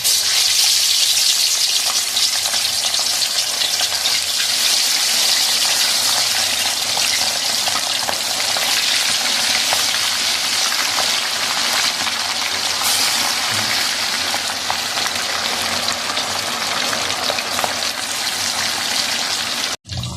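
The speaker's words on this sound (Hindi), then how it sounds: "ऑयल जैसे अच्छा सही गर्म हो फिर हम इसमें मछली डालेंगे।" Fish pieces fry in hot oil in a kadhai wok, a loud, steady, close sizzle and crackle that holds without a break for about twenty seconds, with no talk.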